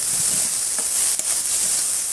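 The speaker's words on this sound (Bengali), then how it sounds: "তারপর এই দেখেন আমরা কষিয়ে নিচ্ছি।" Masala spices sautéing in oil give a steady, close sizzle and hiss throughout, with a few faint clinks of stirring and no talk.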